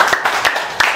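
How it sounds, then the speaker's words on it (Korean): Several sharp claps in an even rhythm, about three a second, ring out close by from the audience at a Korean Saturday guest lecture. "박수를 드리겠습니다"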